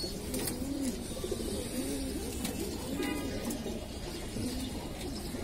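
Soft, rolling coos from a group of pigeons, among them a female jira-gola, repeat in overlapping phrases over steady ambient noise, quiet and close.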